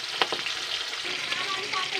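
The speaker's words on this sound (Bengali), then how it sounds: "মাছগুলো হালকা করে ভেজে নেবো" Hilsa fish pieces fry in hot oil with a steady, close sizzle and crackle, with a couple of sharp pops or utensil taps near the start.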